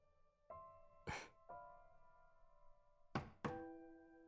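Knocks and thuds in a visual novel game, a few sharp percussive hits spaced apart over soft tonal music, one then a close double hit near the end, quiet overall.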